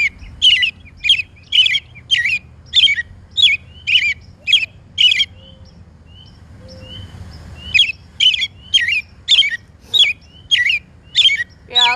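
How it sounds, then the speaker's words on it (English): A recorded bird song plays through a birding session, loud repeated harsh chirping calls in a steady rhythm, pausing briefly midway before resuming. "So a lot of these birds have a lot of different songs."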